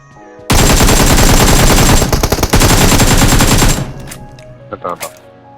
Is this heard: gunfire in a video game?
yes